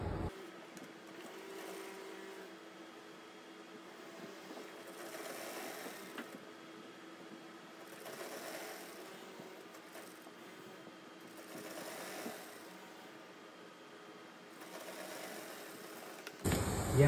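A sewing machine stitches a samosa salwar, a low, steady mechanical hum running continuously at close range in a quiet room, slowing and surging slightly, with no speech.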